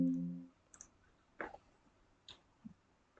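A computer mouse clicks a few separate times, faint and close, with quiet gaps between the clicks after a short hum at the start.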